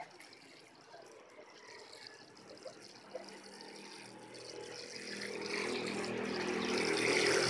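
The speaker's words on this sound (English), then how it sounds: "just water your plant liberally" Water poured onto a potted plant topped with vermicast and topsoil, a steady soft splashing hiss that grows gradually louder toward the end.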